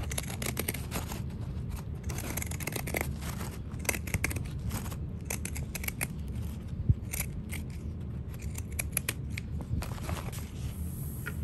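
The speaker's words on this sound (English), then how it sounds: "Going to trim it down at the zipper, but not through my wristlet strap." Pinking shears trimming fabric at a zipper while making a wristlet, giving a steady run of close crisp snips and scraping blade sounds with no talking.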